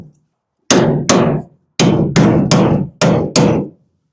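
A hammer strikes a bolt into the suspension of a Ford F100 pickup: seven loud, sharp metallic blows in an uneven rhythm, close and alone after a brief quiet start.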